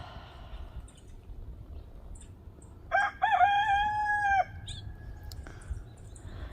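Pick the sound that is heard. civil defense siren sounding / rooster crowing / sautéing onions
rooster crowing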